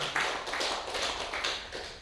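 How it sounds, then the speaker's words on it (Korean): An audience claps together in a temple hall during a monk's lecture on the Lotus Sutra, a dense, steady burst of applause lasting about two seconds. "박수 한번 치십시오"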